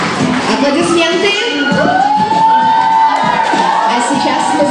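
Children at a summer camp contest cheer, shout and whoop together with applause, a loud, dense crowd roar that holds steady throughout.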